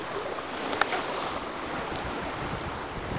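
Steady wash of water and wind noise as a sailboat moves through waves, a continuous rushing hiss with one brief click.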